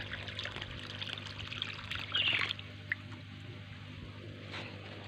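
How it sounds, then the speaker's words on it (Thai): Water pours steadily into a tank being filled, a continuous faint splashing stream with a brief louder gush in the middle. "อันนี้น้ำก็เติมมาได้พักที่ใหญ่แล้วนะคะ เติมประมาณ ชั่วโมงนึงนะคะ"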